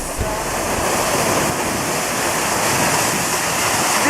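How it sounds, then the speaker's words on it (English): Pinaisara waterfall, the tallest falls in Okinawa Prefecture, on Iriomote-jima, roars in a loud, steady, broadband rush that holds unbroken throughout with no voices. "This is the Pinaisara Otaki on Iriomote-jima in Okinawa. It's the tallest waterfall in the prefecture."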